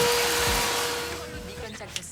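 A household vacuum cleaner runs with a steady, loud whirring drone that slowly fades, with some faint background noise near the end.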